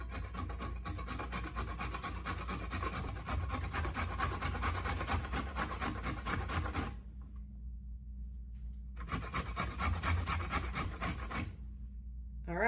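Unpeeled, washed carrots are rubbed against a hand grater in a steady run of fast rasping strokes, close and loud, with a short pause in the middle before the scraping resumes.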